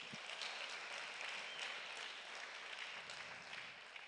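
Faint, distant audience applause at a local election campaign debate, a steady soft patter of clapping with no distinct individual claps standing out.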